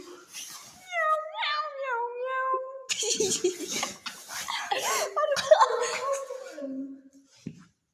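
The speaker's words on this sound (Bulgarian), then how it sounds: "Мяу-мяу-мяу." A cat meows repeatedly in short, rising and falling calls, some drawn out into a wail, close by in an indoor game setting with people chatting and chuckling in the background.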